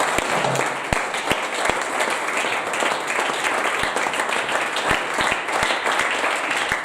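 A church congregation applauding, dense sustained clapping from a crowd filling the room with a few sharper claps standing out, steady and loud for the whole stretch.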